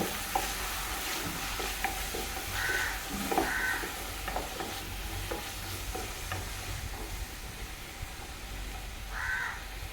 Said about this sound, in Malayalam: അത് രണ്ടും കൂടി ഇട്ട് കൊടുത്തിട്ടുണ്ട് അതൊന്ന് നന്നായി വഴണ്ടി വരട്ടെ